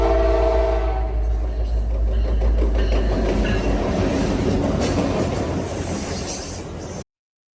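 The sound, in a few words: train sound effect, rolling railroad cars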